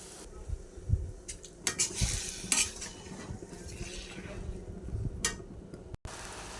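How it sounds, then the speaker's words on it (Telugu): Cooked chana dal and beetroot stirred into a pan of spiced curry with chili powder, coriander powder, kasuri methi and asafoetida, a metal spoon clinking and scraping against the pan in a few quiet strokes over a soft sizzle. "శనగపప్పు, బీట్రూట్ని వేయాలి."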